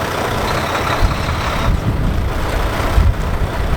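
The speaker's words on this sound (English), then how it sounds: "I'm then going to put the vehicle into gear and gently pull against my trailer parking brake" A truck's diesel engine rumbles steadily in gear as it pulls gently against the trailer parking brake, a low continuous engine drone heard close with no talking.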